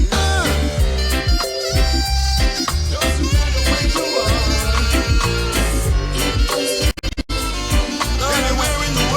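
Loud, dense reggae track, with a steady bass line, beat and layered instruments playing continuously; a brief dropout occurs near the end.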